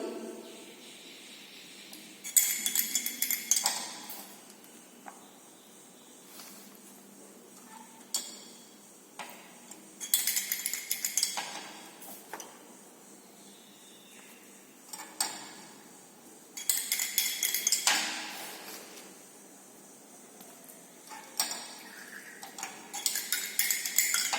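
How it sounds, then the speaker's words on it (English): Liquid is stirred after each addition of sodium hydroxide during a conductometric titration of an acid mixture, producing bursts of light clinking and ticking separated by quiet gaps. "after each addition, you have to stir the liquid thoroughly"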